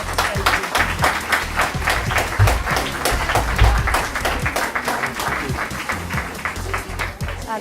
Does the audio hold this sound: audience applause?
yes